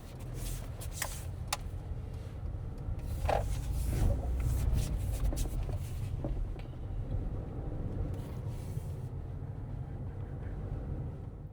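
An automatic car drives along a London road during a mock driving test, its engine and tyre noise a steady, moderately loud rumble with a few brief higher clicks and passing sounds, no talking.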